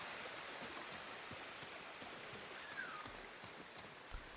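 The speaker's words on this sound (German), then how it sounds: "So eine kleine Schlucht mit mehreren kleinen Wasserfällen." Small waterfalls splash through a gorge in the video game Ghost of Tsushima, making a steady, soft, broad rushing hiss with faint droplet patters and a couple of low thumps.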